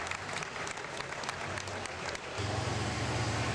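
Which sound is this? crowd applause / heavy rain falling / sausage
crowd applause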